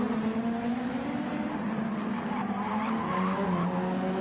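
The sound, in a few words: race car skidding into barrier in a racing video game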